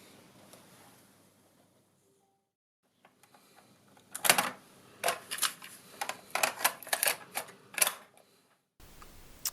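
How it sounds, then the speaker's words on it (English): A cassette tape is loaded into a tape drive, with a burst of close plastic clicks, clacks and mechanical rattles after a quiet start, then a steady low hum. "let's get it in the tape drive"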